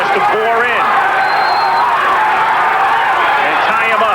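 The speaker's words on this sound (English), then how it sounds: "Crowd chanting Holyfield as Tillman tries to bore in" A boxing arena crowd chants and roars during the Evander Holyfield vs Henry Tillman fight, a loud continuous wash of voices under close commentary from a broadcaster.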